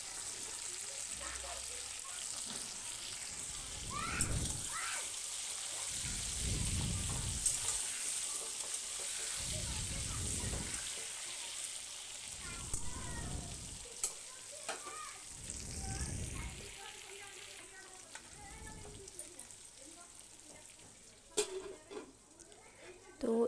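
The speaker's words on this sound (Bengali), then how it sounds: "একটু লবণ আর একটু হলুদ দিয়ে আলুগুলোকে আমি ভেজে নেবো" Potatoes with salt and turmeric sizzle in oil with a steady crackle, broken by recurring low scraping pulses from stirring, and faint voices and kitchen noises in the background.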